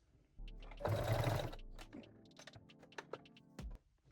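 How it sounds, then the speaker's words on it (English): A sewing machine zigzag-stitches elastic onto fabric along the leg openings of lace-back panties, a short steady run of stitching with clicks and small handling knocks before and after. "sew it with a zigzag stitch along both legs openings"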